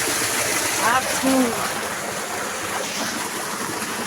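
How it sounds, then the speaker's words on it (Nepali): Cold spring water runs in a stream down from the forest on a rainy hike to Tarebhir, a soft continuous rush beneath a voice and a few brief higher sounds. "यो पानी चाहिँ यहाँ जङ्गल माथिबाट कहाँबाट त्यो मूलको पानी भएर आएको हो"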